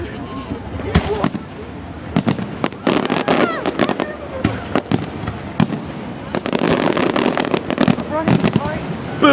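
Fireworks exploding over downtown Dayton, Ohio, with sharp booms and crackling bursts arriving in irregular clusters through the whole stretch, loud and close, with voices of a crowd talking underneath.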